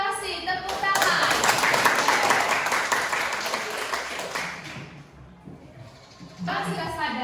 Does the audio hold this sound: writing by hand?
no